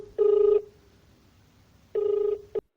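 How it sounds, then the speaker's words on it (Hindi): A telephone rings twice, two steady electronic ring bursts separated by a pause, fairly clear and alone without talk. "कावेरी ने टीटी को फोन किया।"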